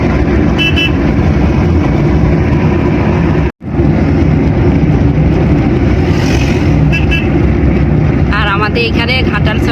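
Continuous loud road and engine rumble from inside a car moving along a widened town road on a hot day, with a short dropout, horn-like tones near the end, and a voice talking over it.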